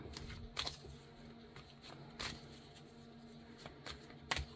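Oracle cards being shuffled by hand for a weekly tarot-style reading, a run of soft riffling bursts and papery slaps repeating irregularly, close and fairly quiet, with no talking.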